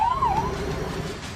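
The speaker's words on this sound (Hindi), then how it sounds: "एम्बुलेंस का तांता लग जाता है ताकि जख्मी सैलानियों की जान बचाई जा सके।" Ambulance siren wailing in a rising and falling sweep, moderately distant and alone under low background rumble, heard at a terror attack scene on tourists in Pahalgam.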